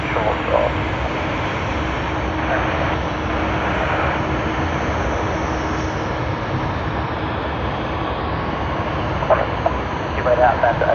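Jet aircraft taxiing at Sydney Airport, a continuous loud engine rumble and whine heard from a distance with a steady hum underneath, holding level for the whole stretch.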